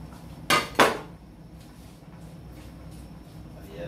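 Chinese cabbage dropped into a cooking pot of saluyot stew, two sharp clattering hits close together near the start, followed by soft quiet kitchen rustling and a low simmering background.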